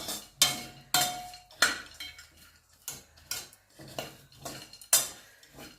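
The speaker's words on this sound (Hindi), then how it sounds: "और उसी कढ़ाई में आधा चम्मच घी डाल के अब हम ये ड्राई फ्रूट अपने जो हमने काट के रखे हैं उनको सेक लेते हैं" Dry fruits (pistachios, almonds, cashews, raisins and chironji) stirred in half a spoon of ghee in a kadhai for a mawa gujiya filling, heard as a steady series of sharp metal spoon scrapes and clinks against the pan, close and fairly regular.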